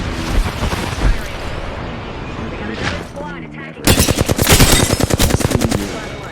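Automatic weapon fire in Apex Legends, a loud burst of rapid, evenly spaced shots hammering for the last few seconds after a stretch of mixed game noise and a voice calling out.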